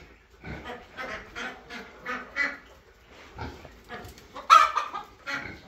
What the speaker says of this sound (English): Alright, chickens, you can come out now